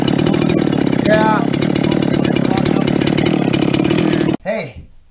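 A ported Dolmar 7300 chainsaw cutting wood in a large blowdown patch roars at high revs in a loud, steady drone close by, then cuts off abruptly near the end, followed by a brief voice.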